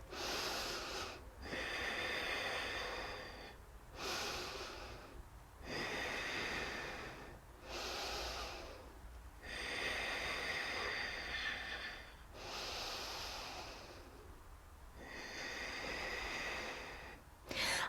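Deep breathing during a standing yoga pose, slow rhythmic inhales and exhales through the nose, about five full breath cycles, close and steady with brief pauses between.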